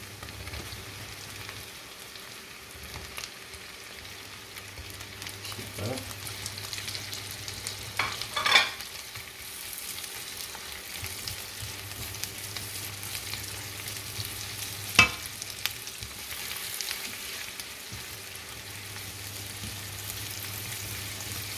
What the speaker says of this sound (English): Gonna saute them for a little. Go in and add the mushrooms.